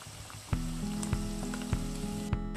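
Ginger garlic paste and green chillies frying in hot oil for a Tamil Nadu style fish curry, a steady sizzle with a few dull knocks at regular intervals, no talk.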